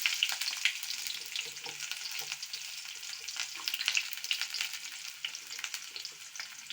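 Chopped onion sizzling in hot oil with mustard seeds and pepper in a pan, a steady crackling hiss with scattered pops and spatters, no speech.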